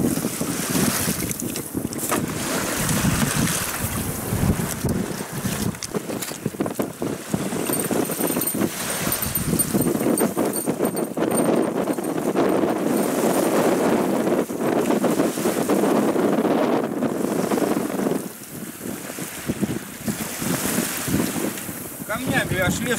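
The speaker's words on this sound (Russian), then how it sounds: "Течение волны вот эти вот идут, и камни перекатываются по берегу." A stormy shore in a strong north wind: loud, continuous roar of waves and gusts buffeting the microphone, with surf surging and easing as stones are rolled along the beach.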